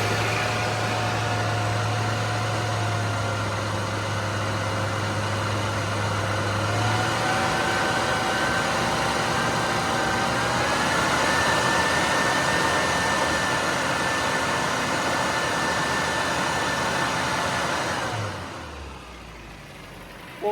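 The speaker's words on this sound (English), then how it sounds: "if we pick the revs up now and see what the fueling is" A car engine held at raised revs, a steady droning hum that climbs in pitch in steps, then drops away near the end.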